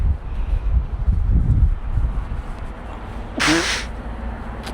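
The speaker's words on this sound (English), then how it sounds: "Whoa, it's windy." Low rumbling wind buffeting a microphone in gusts outside a truck, followed by a brief sharp rush near the end.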